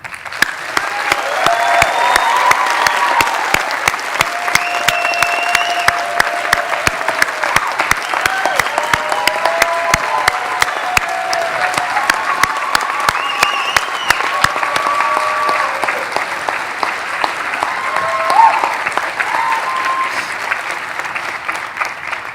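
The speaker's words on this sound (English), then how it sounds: "I think you deserve one really big, warm round of applause again." Warm, sustained applause for the Centennial High School class of 2022 at their graduation ceremony, a large crowd clapping steadily and loudly with scattered whoops and cheers rising above the clatter for over twenty seconds.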